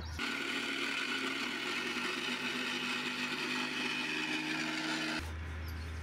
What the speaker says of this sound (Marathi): हे घ्यायचं आहे मिक्सरमध्ये बारीक करून